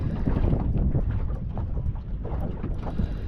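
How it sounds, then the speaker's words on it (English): Wind gusting over a small boat on the water during a lure fishing trip for flathead, a steady rough low buffeting roar against the microphone with no voices. "The wind's already getting up, of course,"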